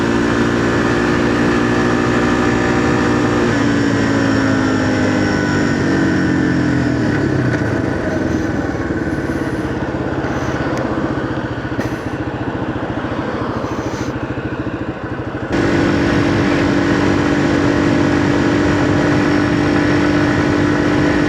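A Yamaha TW200 motorcycle being ridden along a trail, its single-cylinder engine droning loud and steady throughout, dropping in pitch midway and then revving back up, all heard from the rider's position without any talking.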